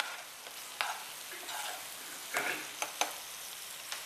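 Onion frying gently in oil for Gobi Manchurian, a soft low sizzle broken by several sharp stirring scrapes and clicks of a spoon against the pan, close and quiet with no talk.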